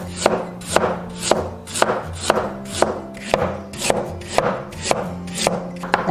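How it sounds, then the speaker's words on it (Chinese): A knife slicing peeled, halved kohlrabi into thin slices on a cutting board, a steady run of crisp, evenly spaced chops close up with no talking. "然后切薄片"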